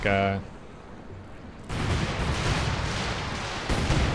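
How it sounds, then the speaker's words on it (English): Rocket artillery barrage in the World War II strategy game Company of Heroes 2, a brief tone giving way to a dense, sustained roar of launches and blasts that swells again near the end. "Send into my rockets. Not a great barrage."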